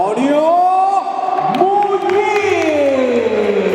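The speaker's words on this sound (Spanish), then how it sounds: "Un aplauso muy fuerte" Crowd cheering and applauding for boxer Antonio Muñiz at a boxing event in Pontedeume, loud and sustained, with whoops and shouts and a tonal whistle or horn line running through it.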